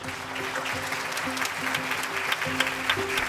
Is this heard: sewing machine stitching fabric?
no